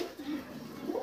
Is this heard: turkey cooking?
no